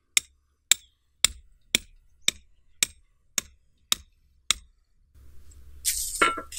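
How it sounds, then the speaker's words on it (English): Nine sharp, evenly spaced sledgehammer blows drive a wooden fruit tree stake into garden soil, each strike loud and close, followed by rustling and a brief scrape. "I use a sledgehammer."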